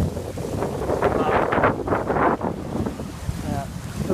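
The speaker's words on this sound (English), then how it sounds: "The wind is really picking up." Strong wind buffets a single-handed sailboat at sea, a loud, continuous rushing roar with gusty surges, mixed with water noise and no talking.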